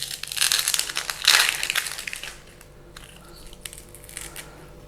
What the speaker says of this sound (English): We'll just peel this other half.